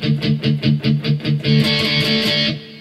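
Palm-muted electric guitar chugs in an even, driving rhythm on a song's chorus riff, then opens into a ringing, sustained chord, played close and loud with no voice.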